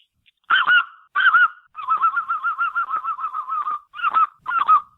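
A man imitates a speckle belly goose call by mouth: loud, close, yodeling honks, starting with separate double notes, then a long run of rapid rhythmic cackles, ending with two more paired honks.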